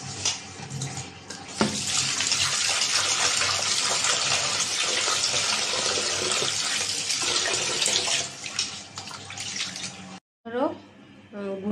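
Tap water gushing steadily into a sink while salted puti fish are rinsed by hand, a loud continuous rush that briefly cuts off near the end before restarting with splashing.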